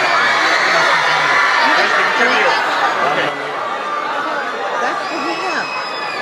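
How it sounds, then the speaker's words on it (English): Excited crowd of fans cheering and shouting for actor Johnny Depp, a dense, loud wall of voices with whoops and chatter; a person speaks briefly over the din. "Listen to the crowd, okay?"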